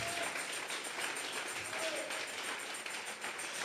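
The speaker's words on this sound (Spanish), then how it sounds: "vamos a regalarle ofrenda de palmas al Dios de la gloria." A church congregation at a Tuesday Bible study gathering applauds, a dense, steady patter of many hands clapping that carries on throughout at moderate level.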